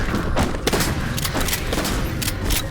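Futuristic sci-fi M45D tactical shotgun from Halo 4 firing in a video game, several loud booming blasts in irregular succession over a dense battle backdrop.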